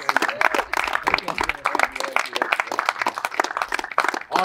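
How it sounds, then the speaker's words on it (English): A live audience at a Wing Chun demonstration by Sifu Ben Der claps and cheers in a dense, rapid burst of applause, with crowd voices mixed throughout. "Big round of applause for Sifu."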